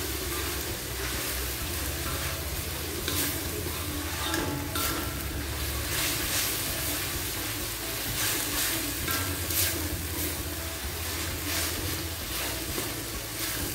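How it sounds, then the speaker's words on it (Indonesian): A carrot, spring onion and rice vermicelli lumpia filling is stirred in a hot pan, giving a steady close sizzle with soft scraping stir strokes throughout and no talking. "Aduk lagi."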